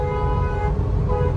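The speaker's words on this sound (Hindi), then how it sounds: "थार रॉक्स वाला दिए पड़ा है हॉर्न एकदम" A Mahindra Thar Roxx car horn blares continuously over rumbling traffic, loud and close, holding a steady tone for the whole moment.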